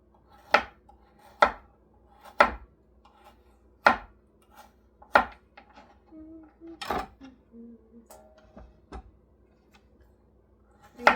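A knife chops carrots into rounds on a cutting board, with about a dozen sharp, evenly spaced close thuds and some faint clinking between strokes.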